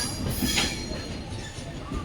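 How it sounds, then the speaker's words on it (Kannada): The Mysuru–Belagavi Express rolls into a station platform, a loud steady rumble of wheels on rails with a brief metallic squeal and clicking joints, close by and without voices. "ಆ ಟ್ರೈನ್ ಬಂದ್ಬಿಟ್ಟು ಮೈಸೂರು ಬೆಳಗಾವಿ ಎಕ್ಸ್ಪ್ರೆಸ್."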